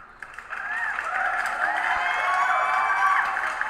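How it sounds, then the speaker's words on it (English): Applause and cheering played during a crypto livestream, a steady crowd roar with bright whooping tones that holds at even loudness for a few seconds. "Let me give him that round of applause."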